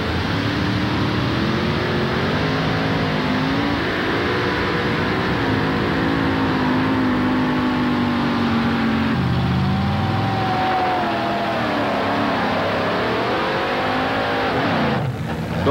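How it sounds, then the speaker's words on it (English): A little red truck with a big Chrysler Hemi engine roars loudly and steadily at a 1987 Bowling Green truck pull, its pitch rising and falling through the run with a strained, droning bellow and no talk over it. "this guy here has just got this truck a-humming too with the... big Chrysler Hemi"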